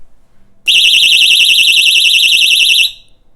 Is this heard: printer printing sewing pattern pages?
no